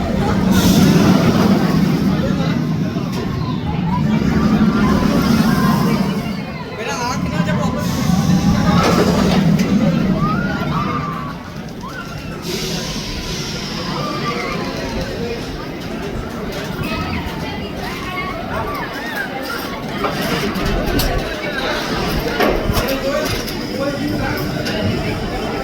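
A theme park ride at Imagicaa rolls along with a steady loud mechanical rumble and rhythmic clattering of wheels on track, with voices mixed in throughout.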